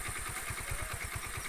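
A motorcycle engine idles on a rough village road in Pakistan's Punjab, with a steady rhythmic low chug throbbing close by under a constant background hum.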